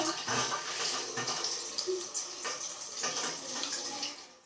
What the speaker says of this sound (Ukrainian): нам потрібно далі помити своє лице. Бажано літньою водою.